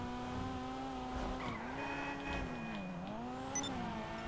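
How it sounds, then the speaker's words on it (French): A Dinka Jester Classic sports car in GTA 5 gives a steady, droning engine note whose pitch dips and rises as it revs, with faint tire noise and no speech. "c'est tout simplement la Dinka Jester Classic"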